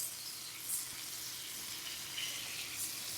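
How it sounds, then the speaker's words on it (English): Butter melting in a skillet while making a loaded potato casserole gives a steady, soft sizzle and crackle that holds evenly from start to finish, with no talking. "We're going to melt some butter in our skillet."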